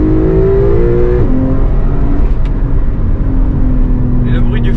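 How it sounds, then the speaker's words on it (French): A Porsche Targa 4S twin-turbo flat-six engine revs and accelerates steadily, its deep tone rising then dropping at a gear change, loud and close from inside the cabin. "Et le bruit du flat 6 biturbo est vraiment incroyable."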